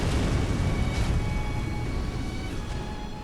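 A boss's meteor jump explosion in Sekiro: Shadows Die Twice, a loud, close, rumbling burst that decays over a few seconds, with no talk.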